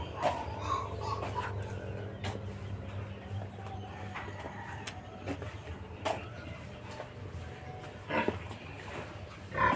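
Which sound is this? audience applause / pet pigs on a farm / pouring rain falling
pet pigs on a farm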